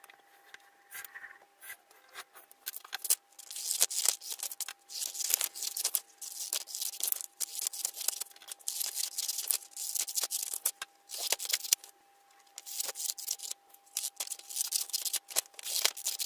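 Scissors cut out a paper template in a craft setting, giving close, busy rustling and snipping in uneven bursts with brief pauses, all without talk.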